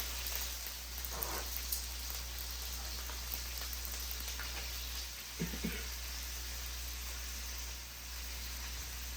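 Marinated ahi tuna steaks sear in a hot oiled pan, giving off a steady, fairly quiet sizzle that runs unbroken throughout with a few faint clicks and bumps on top.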